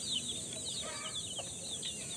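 Several native chickens of labuyo stock cluck and chatter softly nearby in short overlapping calls, over a steady high-pitched insect-like hiss in the background.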